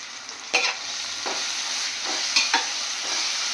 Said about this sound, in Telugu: ఇది కొంచెం పచ్చివాసన పోయే వరకు ఫ్రై చేసుకోవాలి